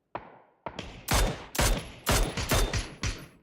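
Gunfire in the battle royale game PUBG comes as a rapid burst of about seven loud, sharp shots in quick succession, close and punchy, with no speech over it.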